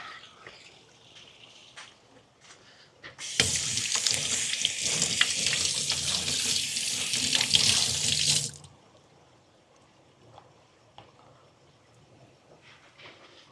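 Water pumped out while draining a garden pond, a loud rushing gush that starts abruptly, runs steadily for about five seconds, then cuts off, leaving quiet background with faint clicks.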